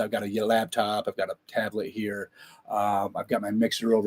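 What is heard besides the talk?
No everyday noises stand out.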